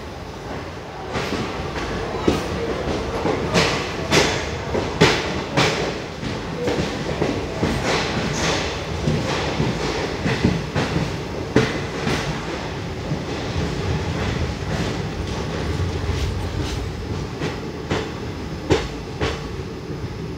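Heard from inside a 3A coach of the Mangaluru–Vijayapura express, the train rumbles steadily along the rails near Hassan, with rhythmic clickety-clack wheel beats and rattling carriage noise throughout.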